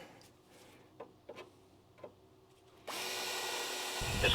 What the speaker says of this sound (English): there's like 3 more that you haven't drilled a pilot for